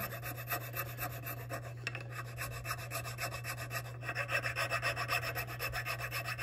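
A rough file rasps across Padauk wood in steady back-and-forth strokes, close and loud, with a constant low hum running underneath throughout.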